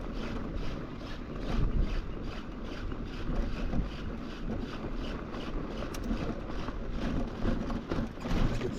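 Wind blowing past a rider on an e-bike on a sandy mountain trail, a steady rushing roar with gusting swells, heavy buffeting across the whole stretch and no talking.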